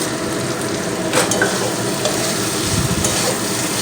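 Winter vegetables and paneer fry in a pan with a steady, close sizzle, with brief stirring scrapes and clinks over the bubbling hiss.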